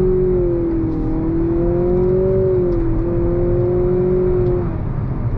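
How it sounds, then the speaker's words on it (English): A 2023 Nissan Altima Turbo pulls under throttle with a steady engine drone and a rising, wavering tone throughout, loud and close from inside the cabin, with no talk over it. "But let's go ahead and go on throttle again."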